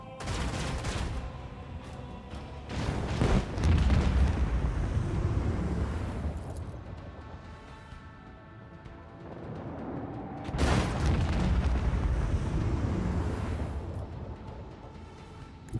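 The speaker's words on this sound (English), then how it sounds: "Launch batteries, fully! Salvo!" Warship batteries fire a salvo in the Warhammer 40,000 Rogue Trader video game, heavy booming blasts in two rolling waves with rumbling decay between them, loud and dense with no voices.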